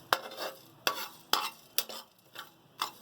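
A spoon scrapes and stirs spices as they lightly roast in a pan for bhindi masala, about six distinct scraping strokes at a steady rhythm, close and fairly quiet with a faint sizzle between them.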